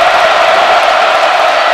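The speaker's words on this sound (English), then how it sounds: "Here comes the crowd." A basketball arena crowd at a Michigan versus Michigan State game roars in a loud, steady wall of cheering that holds at full volume without a break.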